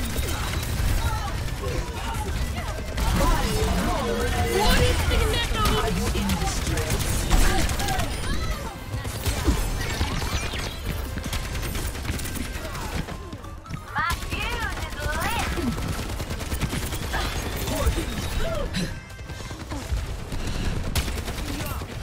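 Automatic and rapid gunfire in the online shooter Overwatch 2 on the Rio map Paraíso, dense bursts running throughout under players' talk.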